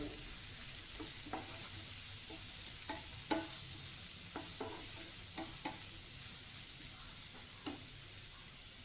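Sliced onions with salt sauté in a pan for cauliflower curry, a steady hiss of frying punctuated by repeated clinks and scrapes of a stirring spoon, close and without speech.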